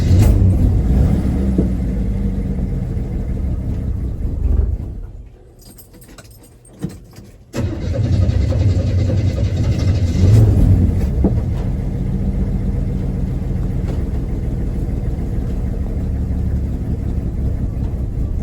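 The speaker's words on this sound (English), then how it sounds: "Let it idle, see if it idles." Engine of a 1981 Chevy C10 square body pickup runs with a rough, loud rumble that dies away, then catches again with a sharp jolt and settles into a steady, uneven idle, with no voices.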